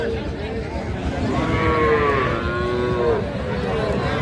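A young bull calf moos a few times, drawn-out and wavering, close by amid background murmur of a busy cattle market.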